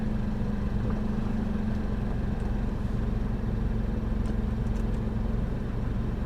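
A 1950s Chevy coupe engine runs in gear at a steady idle, with a continuous low rumbling hum and an even, unbroken drone from start to finish, no voices.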